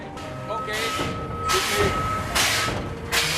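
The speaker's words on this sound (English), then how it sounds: "The train starts moving." A small steam tank locomotive in Budapest, Hungary chuffing as it starts off, with loud hissing bursts of steam at a steady pace over a thin continuous whine and faint voices.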